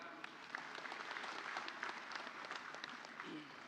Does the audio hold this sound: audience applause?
yes